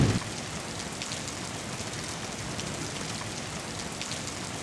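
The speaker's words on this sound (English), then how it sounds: "check out this door with an animated GIF of rain hitting the glass" Steady, dense patter of rain striking glass at a door in the horror game Dementium, continuous and moderately loud with no voices.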